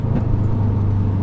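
A racecar engine drones loudly and steadily from inside the car while downshifting on the road, a continuous low rumble with no talking.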